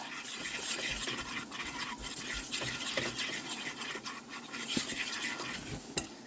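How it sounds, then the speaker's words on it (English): A spoon scrapes and stirs a mixture in a pan over medium heat, giving soft irregular scratching strokes with faint metallic clinks, close and quiet with no talking. "it's still on medium heat, but since I'm stirring it, it'll be all right"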